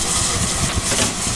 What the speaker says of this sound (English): This is Kinlet Hall, one of the many Hall classes of engines that did yeoman